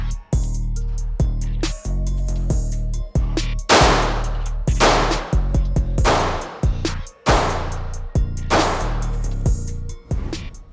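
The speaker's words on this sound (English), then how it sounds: "5 consecutive shots, weak hand only" Five pistol shots fired weak-hand only at a small target dot during a precision drill, sharp cracks spaced roughly a second apart, half buried under loud backing music.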